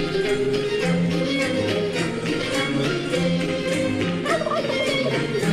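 Turkey gobble alert sounding during a French-language live stream, a loud, continuous run of warbling fowl calls filling the whole stretch with layered, repeated gobbles and little pause.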